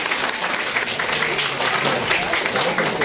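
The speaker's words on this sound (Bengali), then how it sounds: "জোরে হাততালি" An audience at a school theatre competition bursts into loud, dense applause that runs without a break, with a few voices mixed into the clapping.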